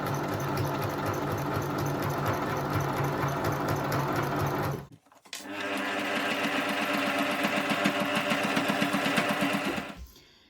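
Sewing machine running fast and close while stitching quilt binding, a dense rhythmic needle chatter that stops for about half a second, resumes with a couple of backstitches, then cuts off.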